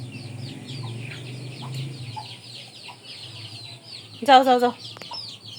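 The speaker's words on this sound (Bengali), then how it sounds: "এই ঘরে দেখেন এই যে মুরগি চলে আসছে" Chickens cluck inside a house, with one short, louder burst of bird calls near the end over a low, steady background hum, while a person speaks briefly, shooing them.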